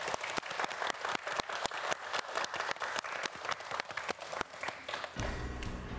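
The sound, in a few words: studio audience applause for quiz students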